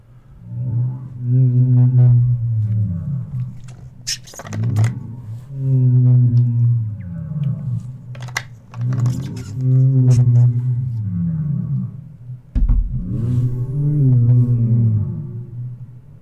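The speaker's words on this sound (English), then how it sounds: "That's how the pterodactyl sounds like, or looks like." Reconstructed pterodactyl call: a series of loud, drawn-out, harmonic shrieking cries, four or five in a row separated by short pauses, with sharp clicks between some of them.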